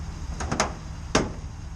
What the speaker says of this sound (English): I'm going to undo my door lock a second.